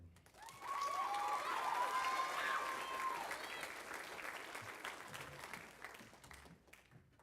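Applause for award winners and the junior class at a spring school band concert swells after a brief pause and holds as a dense, steady roar of clapping with some cheering, easing off slightly toward the end.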